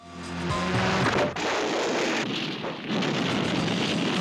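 Loud, dense rumbling explosions roll one after another with barely a pause, booming and crackling close up, like a dramatic movie trailer.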